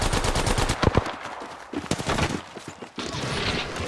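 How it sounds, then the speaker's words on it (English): Rapid bursts of automatic gunfire in the Apex Legends battle royale shooter, dense rattling volleys clustered near the start and continuing intermittently across the clip, loud and close with a busy game soundscape behind. "They're shooting at me."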